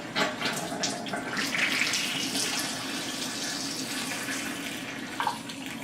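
Steady running water from a Kangen water machine pours over produce soaking in a sink, a continuous close splashing stream with no talk.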